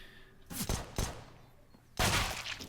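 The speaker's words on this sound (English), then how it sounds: "z0 will get another headshot with that P250." P250 pistol fire in a competitive Counter-Strike match, three sharp separate gunshots about half a second to a second apart, the last one loudest and ringing out, no talk.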